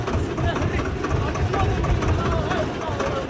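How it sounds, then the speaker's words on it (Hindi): A tractor engine runs during a ride on the road from Manali toward Mumbai, a loud low rumbling drone that stays steady throughout with voices talking over it. "ये ट्रैक्टर की सवारी भैया।"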